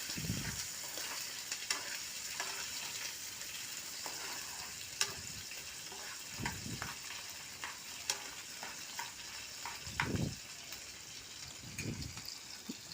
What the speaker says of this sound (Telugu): ఉల్లిపాయ ముక్కలు వేసేసుకొని కొంచెం మగ్గనివ్వాలి